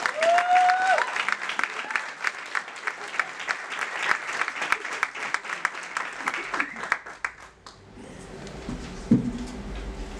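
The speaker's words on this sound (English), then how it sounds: "I think we can continue clapping until she grabs the mic" Audience applause welcoming someone speaker to the stage at a CEO event, a steady wash of many hands clapping at moderate distance that thins out and fades near the end, followed by a voice and some handling noise.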